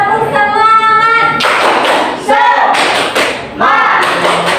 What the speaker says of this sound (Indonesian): Ice breakingnya tuh tepuk semangat aja ya.